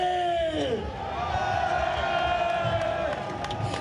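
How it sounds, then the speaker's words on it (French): Farmers celebrating a court victory in Alsace: a crowd cheering and whooping steadily, with cries and some clapping carrying through the din. One voice rises clearly above the mass at times. "Une phrase accueillie par des cris de joie et des applaudissements."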